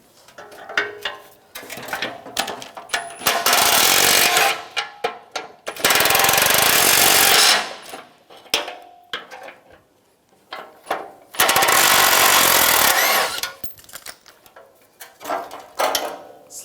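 An impact wrench hammers at a bumper bolt on a 1999-2006 Chevrolet Silverado 1500, firing in three loud bursts of about two seconds each, with lighter ratcheting clicks and handling noises between them.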